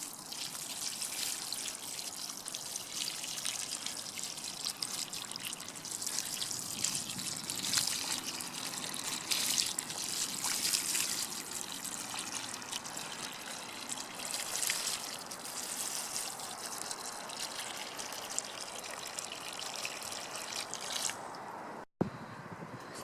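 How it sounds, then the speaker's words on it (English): Water pours from a watering can onto a freshly transplanted currant bush, a steady close trickle and splash that holds at an even level for the whole stretch with no voices. "So we're going to go and get that water now, if I can find my watering can"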